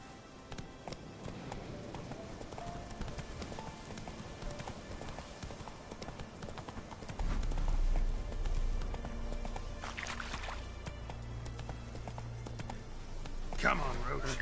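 Horse hooves clip-clop at a steady trot in The Witcher 3, a continuous rhythmic patter under game ambience, with speech also present in the scene.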